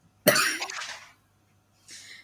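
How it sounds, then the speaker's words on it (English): One person coughing once, close and loud, a harsh burst trailing into a rough exhale, followed by silence and then a soft breathy sound. "I'm going to start coughing"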